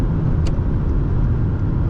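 A 2013 Hyundai Genesis 3.8 sedan engine roars loudly under hard kickdown acceleration, a deep, dense rumble with road noise filling the cabin, steady throughout with a couple of faint ticks.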